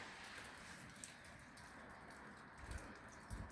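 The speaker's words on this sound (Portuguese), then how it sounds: "Tá chovendo cá fora." Rain falling outside on a cold, wet day in Portugal: a faint, steady hiss with a couple of soft low thumps near the end.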